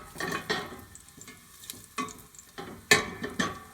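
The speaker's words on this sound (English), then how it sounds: "we're going to saute the garlic until it's starting to get clear" Garlic in olive oil sizzles quietly in a pan, broken by several stirring scrapes and clacks of a utensil against the pan, with no voices.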